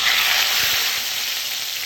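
Ghee sizzling steadily in a pan while tempering chicken korma, a close, even hiss of frying fat that fades slightly toward the end.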